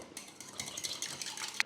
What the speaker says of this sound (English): Now I'm just going to crack this egg into a cup and whisk it up first.